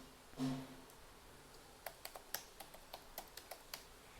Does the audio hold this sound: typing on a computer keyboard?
yes